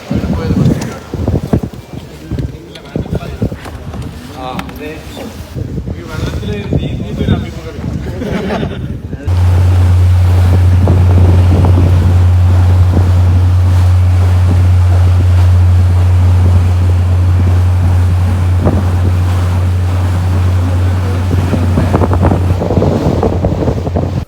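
A thirteen-seat speed boat runs on the sea between Kozhikode beach and Beypore, its engine giving a steady loud drone under wind buffeting and rushing water, after an opening stretch of gusty wind noise.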